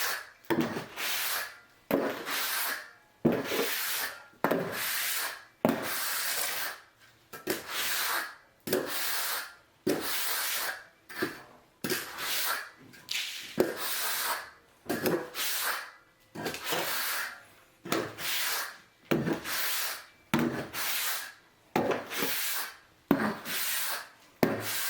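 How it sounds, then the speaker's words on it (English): A steel finishing trowel scrapes and rubs across a sand mortar shower floor in steady repeated strokes, each a close, gritty swish, with short pauses between passes. "take my steel trowel, my flat trowel, finishing trowel, whatever you want to call it, and compress down the last grains of sand"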